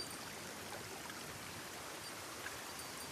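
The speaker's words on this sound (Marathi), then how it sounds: "पुढे धबधबा आहे." A jungle waterfall and stream rush with steady, broadband water noise, close and continuous but fairly quiet, with no voices.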